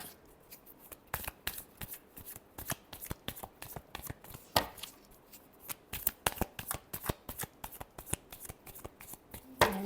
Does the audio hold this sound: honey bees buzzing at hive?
no